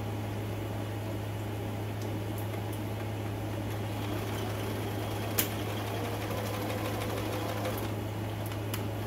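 Sewing machine runs steadily while stitching a dart on the front of a McCall's L9453 dress, a continuous close mechanical whir with one brief click partway through.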